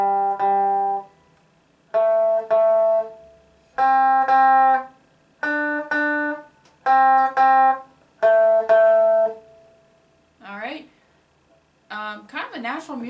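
Guitar playing a song riff, clean plucked notes in short repeated bursts walking down the neck, with pauses between phrases and a few quick bent notes near the end.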